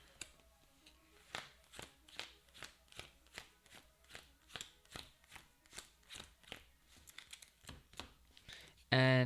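A deck of cards in a Cartographers board game is shuffled by hand: a steady series of crisp, evenly spaced snaps and riffles, close and distinct, ending in a sudden loud burst.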